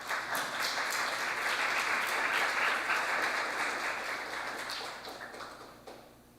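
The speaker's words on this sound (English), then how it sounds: "If we can give them another round of applause, and congratulations." An audience at a church congregation's membership celebration claps in a full, steady round of applause that slowly thins and fades out toward the end.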